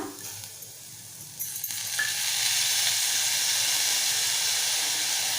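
Chopped tomato and Malvani masala hit a hot pan while cooking masoor dal aamti, with the sizzle swelling sharply after a quiet start into a loud, steady frying hiss, no talk.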